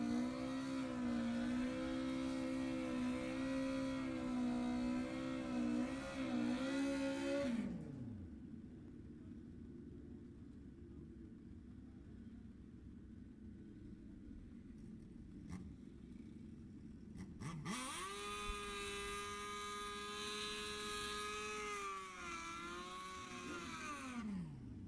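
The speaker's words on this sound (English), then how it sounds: "For two motors that are exactly 1 cc apart, that sure sings differently in the burnout." Two drag racing car motors roaring through burnouts at Sacramento Raceway, one loud steady engine howl that fades, a stretch of distant rumble, then the second engine winding up and holding a high, sustained note before dropping off.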